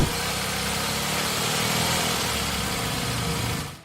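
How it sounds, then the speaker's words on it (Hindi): Tata Nano small car engine running steadily, a rough, buzzy idle resembling an auto-rickshaw, loud and close with a continuous low drone for a few seconds before cutting off. "जब नैनो चलती थी तो ये किसी ऑटो जैसी आवाज करती।"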